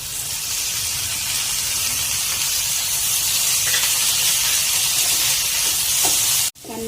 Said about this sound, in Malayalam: പനീരുടെ വെറ്റ് കണ്ടന്റ് പോകുന്ന വരെ നല്ലോണം ഫ്രൈ ചെയ്യണം.